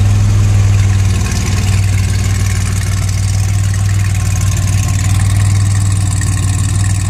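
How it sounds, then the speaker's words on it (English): A DeLorean, VIN 6813, idles steadily and loudly close by, its ceramic-coated DPI exhaust with test pipes giving a deep, even rumble that holds unbroken throughout with no talk. "That's a DPI exhaust. Ceramic coated, can't delete test pipes."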